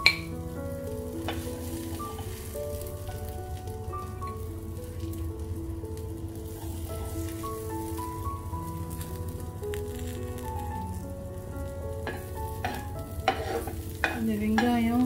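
Tandoori-marinated vaaval (pomfret) fish frying in a pan, a continuous hiss of hot oil with crackling spatters growing livelier toward the end, under a faint background melody, no talk.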